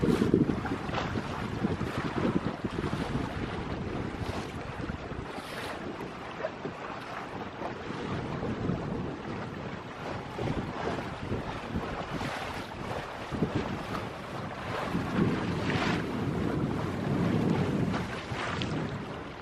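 Steady wind rushing past a microphone aboard a small homemade sailboat at sea, a continuous loud roar with gusty swells and water sloshing beneath, no voices.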